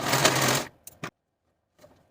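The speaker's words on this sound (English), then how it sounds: "And as I serge, I'll be catching the edges of this binding as I go." A serger sewing machine runs across a V-neck knit binding in one close, steady whir for about half a second, then stops, followed by a few short clicks and light handling noises.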